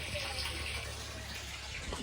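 Steady rushing of borewell water pouring into a tank, a continuous broadband hiss with a low rumble, running unbroken throughout.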